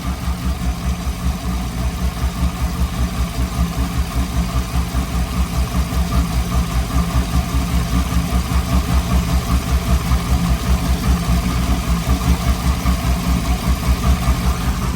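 A car engine idles steadily while warming up, fitted with new headers and exhaust. The low, even rumble is loud and continuous, with a slight pulsing throb, and no one speaks.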